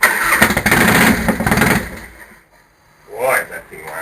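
A Harley Fatboy motorcycle's big American V engine cranks and runs loudly and roughly, then dies away into near silence before a short burst of noise. People talk over it.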